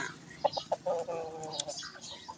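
A big Burmese chicken gives several short, close clucks followed by a longer drawn-out call, moderately loud, with quiet farmyard background.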